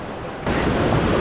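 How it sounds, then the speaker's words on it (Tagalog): Strong ocean surf in Bali roars up suddenly, a broad loud wash of waves with wind buffeting the microphone, close and steady with no voices. "Ang lakas ng alon, te."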